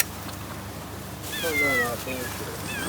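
Stray cats on an abandoned Japanese island give a couple of high, wavering meows against outdoor background noise, moderately near, with a person talking around them.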